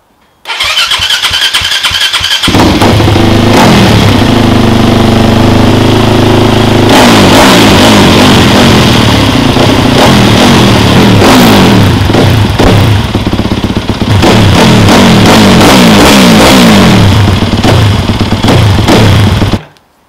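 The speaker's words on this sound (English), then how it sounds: "So by that demonstration, yes, it is a pretty noisy bike." A Yamaha WR250F dirt bike fitted with a GYTR racing exhaust starts up, then revs loudly and repeatedly, close by, the engine note rising and falling for about twenty seconds with no talk.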